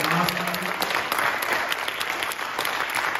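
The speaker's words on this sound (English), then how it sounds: "Let's give one more round of applause for our three teams tonight." A crowd at a high school pitch night claps for three student teams, a bright, sustained round of applause from many hands that thins slightly toward the end.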